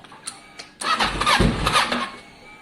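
A Kawasaki ER6n street fighter motorcycle, a salvaged wreck being rebuilt, cranks briefly a couple of times, then catches and settles into a steady, fairly quiet idle nearby, with no voices.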